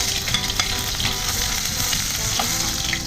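Garlic frying for stingray adobo with coconut milk makes a loud, close, continuous sizzle with a dense crackle throughout and no pauses.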